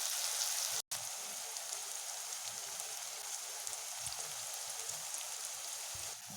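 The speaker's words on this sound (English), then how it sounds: "Lower the flame and fry it till then onion becomes soft." Onion softening over a lowered flame in a pan gives a steady, even sizzle like light rain, close and constant, with one brief dropout near the start and no talking.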